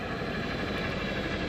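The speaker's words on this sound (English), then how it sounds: "You can hear a water dropping helicopter overhead right now." A water-dropping firefighting helicopter passes overhead at a wildfire in Southern California, a steady, broad rotor and engine roar that fills the air throughout with no talk.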